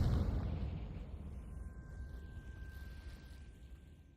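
A Confringo fire spell explodes in Hogwarts Legacy, with a deep booming blast at the start that slowly decays into a low rumbling roar and a faint steady hum.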